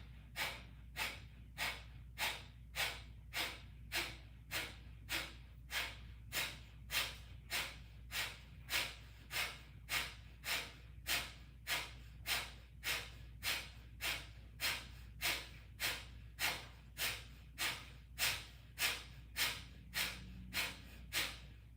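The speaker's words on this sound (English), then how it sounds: "take a big, deep inhale, and then we're going to start short bursts of exhales" Short, sharp exhale bursts are pushed out through the nose in quick, even succession during a pranayama breathing exercise, close-miked and continuous with no talking.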